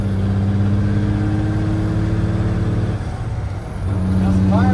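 A Peterbilt cabover truck with a 10-speed transmission drives with a loud, steady engine drone, dipping briefly as a gear changes before pulling again at a new pitch.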